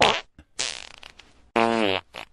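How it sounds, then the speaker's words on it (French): Three loud, close fart sound effects in a row, the last one long and buzzy, each standing alone with no talking. "le général de Gaulle a été condamné pour avoir pété"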